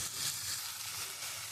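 Fish roe fries with spiced pointed gourd in a pan, a faint, steady sizzle heard alone for a brief moment.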